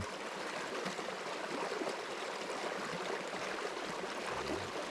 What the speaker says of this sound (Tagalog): tsaka yung huni ng mismong ilog habang tumatama sa mga batuhan